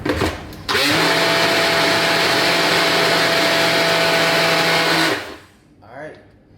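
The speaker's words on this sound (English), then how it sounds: "I got that big boy blender." A loud blender whirs steadily for about four seconds up close, then winds down and stops.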